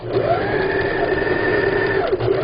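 A sewing machine stitches fabric for a low folding-table cover, a loud, close, steady motor whir with rapid needle clatter throughout, no speech.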